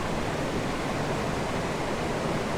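Aber Falls, a large waterfall in autumn, roars as a dense, unbroken wash of falling water, loud and steady throughout with no other sounds.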